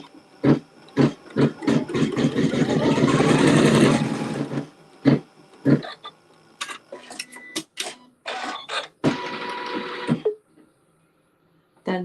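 A sewing machine stitching a quilt seam runs in a sustained whirring burst, with sharp clicks and short mechanical taps before and after it, then falls quiet near the end.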